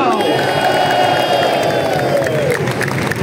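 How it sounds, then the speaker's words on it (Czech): A large stadium crowd of champion football club supporters applauds and cheers during a trophy ceremony at Letná, a dense, loud, continuous roar of clapping and shouting filling the space. "Dnes to se povedlo, ale zaslouží si ohromný potlesk golman šampionů z Letné, číslo 1, Petr Vindal."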